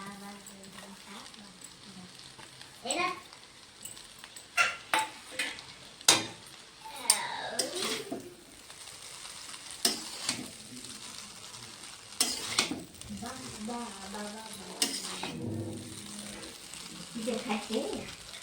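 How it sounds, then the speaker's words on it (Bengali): Vegetable chow mein with fried eggs frying and being stirred in a pan, a steady sizzle under sharp scraping and clanking strokes of the spatula that come in irregular bursts close by. "আর চাউমিনটা এখন ফ্রাই হওয়ার মধ্যে এখন আমি ভেজে রাখা ডিমগুলো দিয়ে দেবো। ডিমটা দিয়ে নেড়ে চেড়ে নামিয়ে দেবো।"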